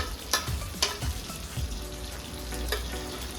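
Tempering spices such as chana dal, fenugreek, cumin, mustard seeds and dried red chillies frying in hot oil, a continuous close sizzle with a few sharp clinks and stirring taps, no talking.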